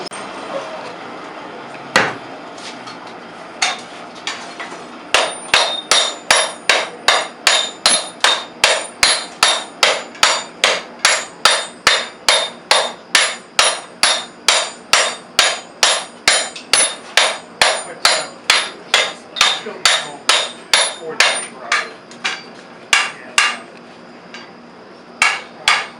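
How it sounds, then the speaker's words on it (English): A gunsmith forging gun parts, welding and shaping metal, delivers a long run of loud, evenly spaced hammer blows, roughly two per second, ringing sharply after one early isolated strike. "most of the hammer blows are just straight down after I'm sure it's welded"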